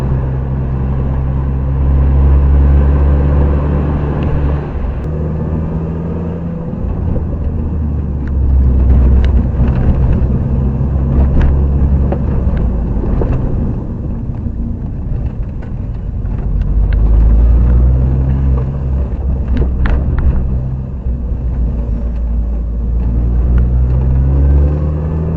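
A Mini Cooper R53 with a freshly replaced timing chain assembly drives on a road test, its engine rumbling and revving in repeated swells as it accelerates and eases off, loud and close throughout.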